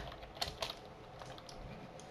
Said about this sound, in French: Je vais juste écrire Sivir Go Bot.